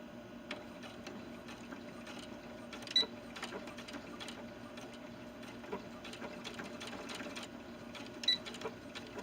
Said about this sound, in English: now with these two layers together I'm going to sew that little angle spot